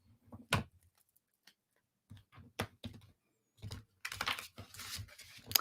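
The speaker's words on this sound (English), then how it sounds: "I'm doing small shuffles because I don't have a lot of room on this deck" Small shuffles of a tarot card deck in a cramped space, heard as scattered dry card flicks and riffles, with a denser crinkly run of shuffling toward the end.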